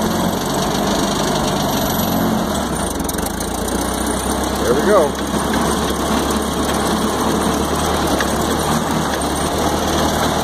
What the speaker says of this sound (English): the next is going to be just driving a tractor across the pasture